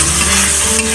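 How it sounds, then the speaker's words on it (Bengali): Spices for a hilsa fish and raw banana curry are sautéed in a pan, giving a brief, loud, close sizzle with stirring scrapes. "মশলাগুলো একটু ভালো করে কষিয়ে নেব।"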